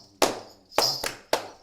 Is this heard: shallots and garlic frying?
no